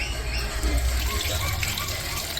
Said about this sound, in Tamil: ரெண்டு மூணு அலசி அலசிக்கோங்க பிரியாமல் அலசிக்கோங்க